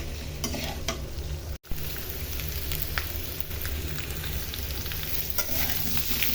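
Papaya pieces fry with onion and oil in a pan, giving a steady, close sizzle with light stirring scrapes throughout and a brief drop-out partway through.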